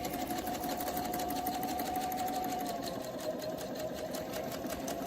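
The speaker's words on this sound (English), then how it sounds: "So once again, a full rotation of this template" A sewing machine stitching a full rotation around a quilting template, its fast, even mechanical whir running steadily and fairly quietly throughout.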